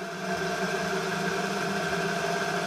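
Motor of an Arno clothes spin dryer running with a steady, loud mechanical hum and whine, constant level throughout without pauses, no voices.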